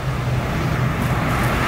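Road traffic in Iran gives a steady wash of car engine rumble and tire noise, a dense, unbroken roadside hum with no voices.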